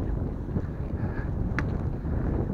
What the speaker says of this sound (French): super temps, un peu de vent. Ça doit s'entendre au niveau de la caméra.